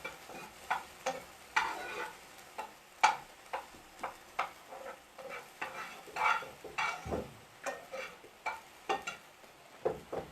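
Salt being stirred into a mixture, with a steady run of about twenty close, quiet scraping strokes of a utensil against a bowl in a regular rhythm, each soft and gritty.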